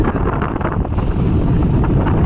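Strong wind roars steadily at sea aboard a fishing boat off Satpati, Mumbai, a loud continuous buffeting rush with the hiss of water beneath and no talk.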